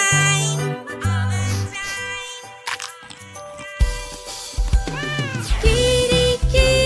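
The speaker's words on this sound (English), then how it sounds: "I have a kitty. She's so pretty." A cat meows in repeated bright, wavering cries over several seconds, close and fairly clear, with some clicks and thumps between them.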